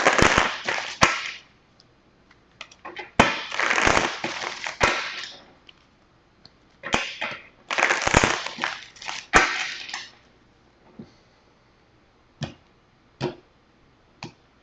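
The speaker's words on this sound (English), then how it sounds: "3 more shuffles." Cards riffled in several quick shuffles, each a dense fluttering burst, close up, followed by a few sharp taps and clicks as the deck is squared.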